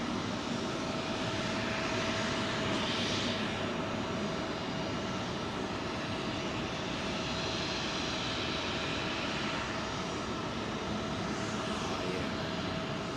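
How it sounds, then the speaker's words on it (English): A Thai Airways Boeing 777 on Heathrow's runway 27L produces a sustained jet engine roar, steady and fairly distant, with slight swells in the upper hiss and no talking. "Here's your beautiful Thai 777."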